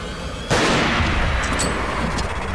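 A sudden loud gunshot blast in the video game Resident Evil 4, a sharp impact followed by a long rumbling decay that fills the rest of the moment, with no talking over it.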